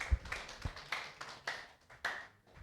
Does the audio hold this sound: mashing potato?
no